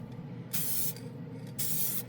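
Glidden Max-Flex spray paint hisses from an aerosol can onto black plastic in two close, loud bursts, each lasting about half a second, separated by a brief pause.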